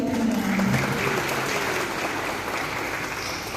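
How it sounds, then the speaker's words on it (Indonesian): Audience applause at a formal gathering, a dense, steady patter of many hands clapping close by that slowly tapers off over a few seconds. "Beri aplaus untuk beliau."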